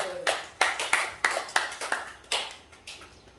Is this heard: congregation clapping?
yes